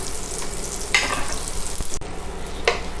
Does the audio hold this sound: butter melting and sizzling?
yes